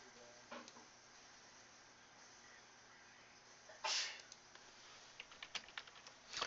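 One sharp sneeze from a person bursts out mid-clip, alone and fairly close, with light keyboard-like tapping and small clicks around it in a quiet room.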